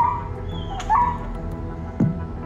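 A mistreated young German Shepherd whimpers in distress, giving a few brief, faint high whines and yelps spaced apart over a low background hum.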